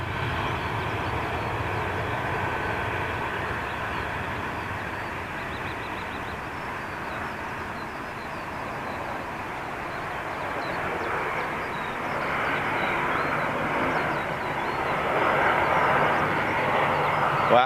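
A Qatar Airways Boeing 787 Dreamliner takes off from Manchester's runway, a broad jet-engine roar that holds steady and then swells louder toward the end, heard from a distance with no talking.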